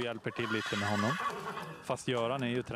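A horse neighs close by, two loud whinnies with a wavering tone, the second longer and rising, separated by a short pause filled with faint rustling.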